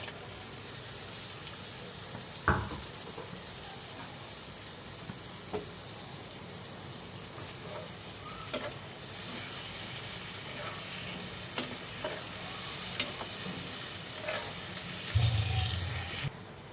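Shrimp cook in a pan with flat beans and tomato, giving a faint, even frying hiss under steady background noise, with a few soft clinks and a brief low thump near the end.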